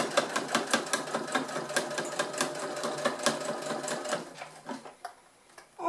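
A sewing machine stitches along a fold in velvet fabric while a velvet wallet is sewn, a steady rapid run of needle strokes that slows and stutters to a stop near the end, close and clear with no talking.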